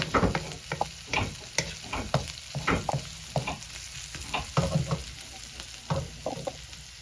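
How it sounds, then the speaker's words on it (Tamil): Onions frying in hot oil for squid curry, a steady crackling sizzle punctuated by scraping stirs and clicks of a utensil against the pan. "ஒரு பத்து நிமிடம் நல்லா வதங்கிக்கங்க"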